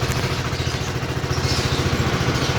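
A Sym GTS 250i scooter engine idles steadily close by, a low rhythmic putter that holds even throughout with no voices.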